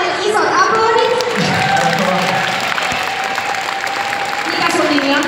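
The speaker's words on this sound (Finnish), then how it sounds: "Annetaan hänelle isot aplodit." A crowd at a live stage show applauds and cheers steadily as a fan comes up, with dense, fairly loud clapping and crowd noise throughout.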